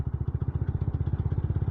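A TVS Ronin motorcycle rides at low speed in fifth gear, its engine giving a steady, rapid low thumping pulse, close and continuous.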